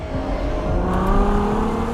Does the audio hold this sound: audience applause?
no